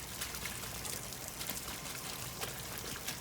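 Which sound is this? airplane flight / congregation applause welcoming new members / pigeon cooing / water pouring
water pouring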